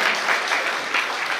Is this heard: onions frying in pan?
no